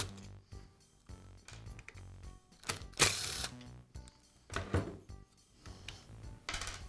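Cord clamp being removed from the housing of a Porter Cable drywall sander, with close, irregular clicks, rattles and scraping of plastic and metal parts in short bursts, including one louder clatter.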